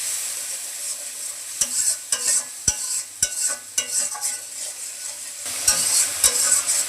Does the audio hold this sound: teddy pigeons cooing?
no